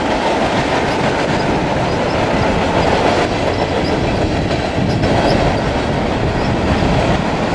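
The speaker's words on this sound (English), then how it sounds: "Long train. Sounds like empties." A long freight train of empty cars rolls past up close on the Saskatchewan prairie, a loud continuous rumble with rattling, clanking cars and steady clickety-clack, hollow and banging.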